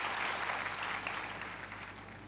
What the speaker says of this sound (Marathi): भारत गणेशपुरे यांच्यासाठी टाळ्या झाल्या पाहिजेत